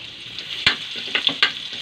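Garlic sizzles in a hot pan while sautéing bottle gourd with glass noodles, giving a steady bright hiss broken by sharp crackles and pops, fairly close and moderately loud.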